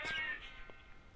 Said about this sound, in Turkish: Şöyle kedimiz gizlice sızdı şuraya.